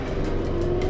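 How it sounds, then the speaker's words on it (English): A boat motor drives a traditional sailboat as it pulls away from Shella on Lamu, Kenya, a steady, close, continuous engine drone with a constant low hum and no talking. "They're just using the motor right now until we get a little further out to the open water"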